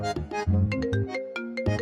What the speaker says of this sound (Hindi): अरे भाई का फोन तो यही है